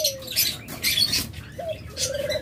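Caged lovebirds chirp and squeak in quick, bright bursts, several birds calling close by with short gaps between calls.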